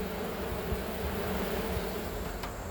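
A swarm of angry honey bees buzzing around an opened hive while honey is pulled and queens checked, a loud continuous drone close by with no voices.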